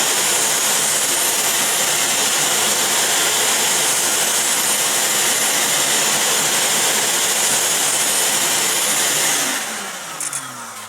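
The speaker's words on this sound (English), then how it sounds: "If I kick the blower on" A dust blower on an old figure skate sharpening and grinding machine runs as a loud, steady whooshing roar close by, winding down near the end, with no talking.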